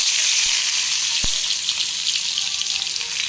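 Garlic and nigella seeds sizzling in hot oil, a loud continuous crackling hiss with a couple of sharp pops, close up and without speech.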